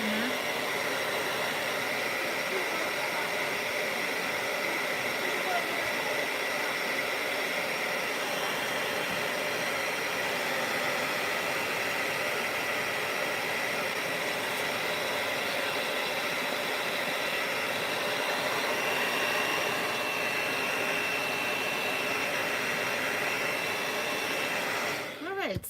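A handheld dryer drying a watercolor painting blows as a steady, loud airy whoosh with a constant whine, lasting without a break until it cuts off at the end.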